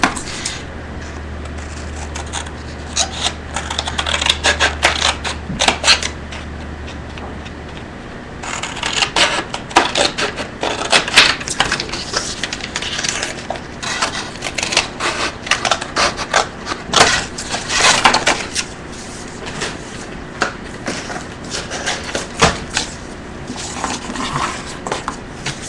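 Paper being cut out by hand for card making, a Sweet Children stamped image, with irregular snipping and rustling at close range, a low steady hum at the start, and handling noises throughout.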